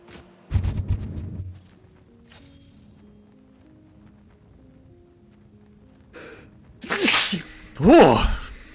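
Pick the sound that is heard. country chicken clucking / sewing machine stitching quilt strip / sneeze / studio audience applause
sneeze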